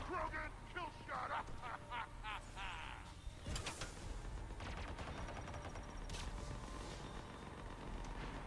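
Gunfire in the Mass Effect 3 Citadel DLC: bursts of sharp shots and rapid automatic fire crackling in a chaotic game battle, with voices talking throughout.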